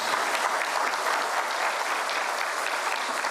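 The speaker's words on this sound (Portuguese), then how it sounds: "pedir uma salva de palmas a todos os reitores e reitoras dos institutos federais" Sustained, dense applause from an audience at a federal universities and institutes meeting, steady and loud throughout with no voices rising above it.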